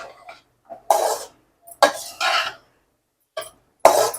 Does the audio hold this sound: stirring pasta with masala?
yes